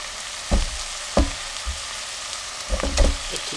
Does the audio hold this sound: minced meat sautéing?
yes